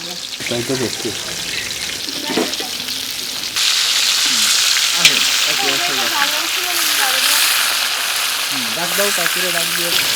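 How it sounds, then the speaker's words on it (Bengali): Small puti fish fry in hot oil with a loud, continuous crackling sizzle that swells after a few seconds, heard up close, with a voice faintly audible over the frying at times. "পুঁটি মাছগুলো একভাবে ভেজে নিচ্ছি"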